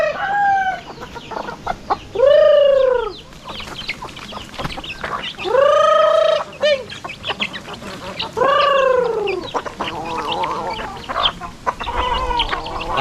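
Farm chickens at feeding time cluck steadily while a rooster crows loudly nearby three or four times in long, drawn-out calls, with no talking.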